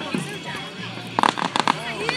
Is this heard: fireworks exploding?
yes